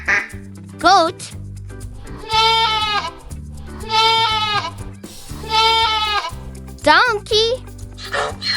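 A goat bleats several times in wavering, drawn-out cries, loud and close, over a steady background music track with a child-like voice at the start.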